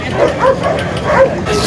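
Dogs at a dog market bark and yip in quick, close bursts, with some whimpering mixed in, over busy crowd noise and a low murmur of voices.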